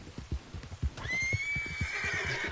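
Horse hooves clip-clop in the video game Red Dead Redemption 2, then the horse gives a loud, drawn-out whinny that rises and trails off, close and clear.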